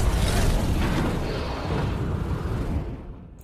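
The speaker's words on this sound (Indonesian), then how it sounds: "tiba-tiba terjadi ledakan dari arah laboratorium rumah sakit" A loud, rumbling explosion from a hospital laboratory in a film, a broadband roar that fills the clip and slowly fades away near the end, with no talking over it.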